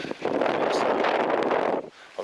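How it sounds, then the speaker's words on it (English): Strong wind buffets a microphone on a hilltop at Monte Verde on São Vicente island, Cape Verde, a loud, dense roar that drops away near the end. "I'm hiding behind a thing to get out the wind because it's constantly windy up here."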